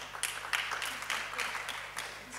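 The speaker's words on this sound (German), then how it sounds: "Bestimmt erfahrene Kommunalos, die da jetzt klatschen" An audience at a Green Party primary event in Cologne claps in a short, faint burst of scattered applause with irregular hand claps, heard at a distance over a low background hum.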